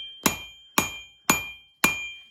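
Four heavy hammer strikes on steel while forging a knife, evenly spaced about half a second apart, each a sharp ringing clang that decays quickly; close and loud with no talking.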